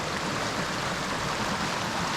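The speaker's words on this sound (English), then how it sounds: "And this is where we would cross the creek." A creek crossing on the Woodhaven hiking trail in Fairfield Bay, Arkansas, fills the air with a constant broadband rush of flowing water, steady and fairly loud throughout.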